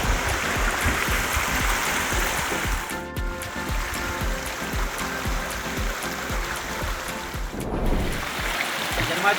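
A mountain river in Uttarakhand's Kumaun region rushing past close by, a loud, continuous churning flow with slight surges and two brief dips, and no talking.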